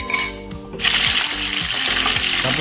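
Fish frying in a pan on a home stove, a steady close hiss and sizzle of hot oil that swells after a brief quieter moment, with light clinks of utensils.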